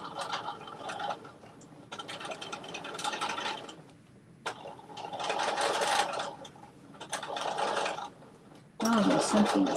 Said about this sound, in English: I gotta sew this other half right here